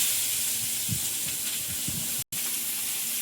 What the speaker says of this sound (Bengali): তেলের মধ্যে একটুখানি গোটা জিরে দিয়ে আর পেঁয়াজ কুচি,